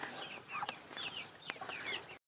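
Several chickens cluck and chirp in short bursts, fairly close, with a steady background hum and no talking.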